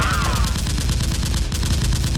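Rapid bursts of gunfire sound effects, a continuous loud rattling volley like a machine gun, accompany a masked Nerf war fight with robbers.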